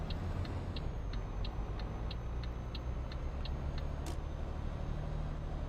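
A truck engine in the Euro Truck Simulator 2 video game, a steady low drone while driving, with a regular ticking like an indicator and a brief hiss partway through.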